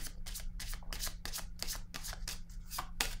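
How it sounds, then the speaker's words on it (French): Tarot cards are handled in quick, repeated papery bursts, about a dozen crisp riffles in close succession with no talking. "Je vais déposer une carte ici."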